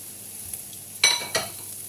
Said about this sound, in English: We're going to add a splash of water and fry that for a few more minutes.